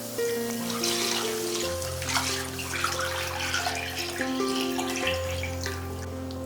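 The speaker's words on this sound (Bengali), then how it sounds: "এরপরে এখানে দিয়ে দেব দুধ আর গুঁড়ো দুধের মিশ্রণটা" Milk and milk powder mixture pours into a pan of fried rice for payesh, a steady liquid splash and trickle running throughout under a faint background hum.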